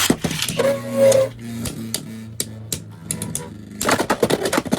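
Beyblade X tops Strike Dran and Rocket Griffon are launched and battle, with sharp clacking collisions and a whirring spin in the stadium, ending in a flurry of rapid clatters.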